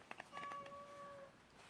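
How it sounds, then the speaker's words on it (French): A cat meows while wind blows outdoors, giving a few short high calls near the start and then a longer drawn-out cry, faint and close, with steady wind noise behind it. "c'est mon chat qui est pas content parce qu'il y a du vent"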